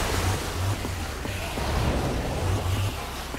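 Water gushes from a machine in Minecraft: Story Mode, a steady, loud rushing wash of noise with a low rumble underneath, continuous and close throughout.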